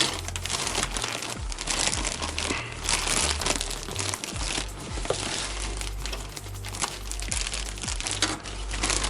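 Packaging crinkles and rustles as a 2 kg parcel is unpacked, with dense crackling, crumpling and occasional sharp clicks and thumps close by, continuous over several seconds.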